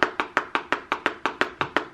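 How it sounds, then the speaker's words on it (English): About a dozen sharp, evenly spaced taps hit a paper surface in a quick steady beat, like pencils drumming on a notebook. "You wanna know what banging on paper with pencil sounds like?"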